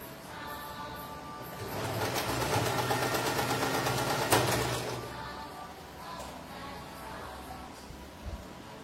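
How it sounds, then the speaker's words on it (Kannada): Sewing machine stitching the lining of a blouse, a steady mechanical whirr that swells for a few seconds and then fades, with no talking. "ಮೊದಲು ಲೈನಿಂಗ್ ಹೊಲ್ಕೋತೀನಿ."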